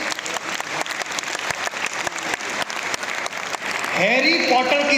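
A large crowd at a Hindi poetry recital, a kavi sammelan, claps in dense, continuous applause that swells near the end. A voice speaks over the clapping in its final second.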